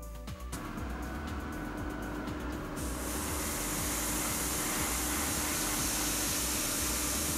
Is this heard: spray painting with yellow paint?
yes